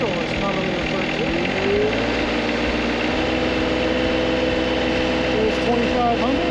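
An engine powering a hydraulic system runs at low idle around 1750, a loud, steady mechanical drone with a faint rhythmic ticking. A voice talks over it now and then.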